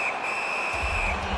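A referee's whistle blows a sustained shrill tone in the NHL 19 hockey video game, heard over loud arena crowd noise that swells after the blast.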